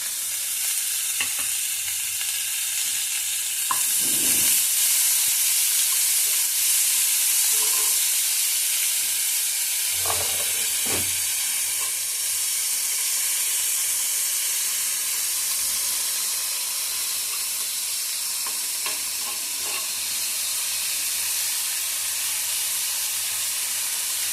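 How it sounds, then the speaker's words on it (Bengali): Onion frying in oil with a pinch of salt for banana-blossom kofta, a steady bright sizzle running throughout, with occasional spoon stirs and scrapes breaking through at close range and no voices. "এটা একটু ভালো করে ভাজবো।"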